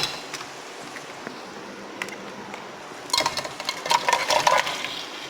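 Mutton trotters cooked in masala in a pot: a faint sizzle at first, then a burst of clanking and scraping from a utensil stirring against the metal in the last two seconds.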